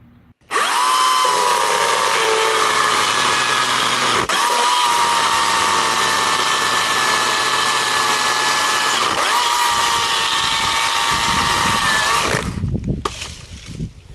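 A small chainsaw with a 12-inch bar runs at a steady high-pitched whine for about twelve seconds, loud and close, starting abruptly and winding down at the end with a brief clatter.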